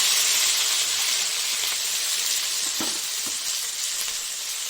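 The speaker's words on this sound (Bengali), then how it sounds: "টমেটো পেঁয়াজ আর দুটো লঙ্কা দিয়েছি বেশি না এই যে দুটো লঙ্কা আর ক্যাপসিকাম এগুলিকে তেলে দিয়ে দিচ্ছি" Tomato, onion, two chillies and capsicum fry in hot oil with a steady, close, hissing sizzle. A few soft stirring knocks sound midway, and no one speaks.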